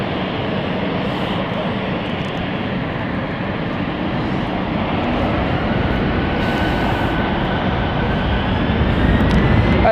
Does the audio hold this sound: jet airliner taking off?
yes